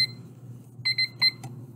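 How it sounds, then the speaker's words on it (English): Three short electronic beeps, high-pitched and clear, arriving in quick succession over a low background hum. "It's making a beeping sound."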